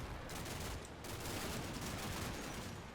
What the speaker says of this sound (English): small arms fire in there as well.